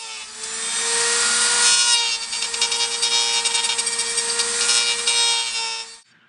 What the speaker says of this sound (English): I'm going to get out my Dremel tool, hook this critter up, and I'm going to do me just a little bit of dremeling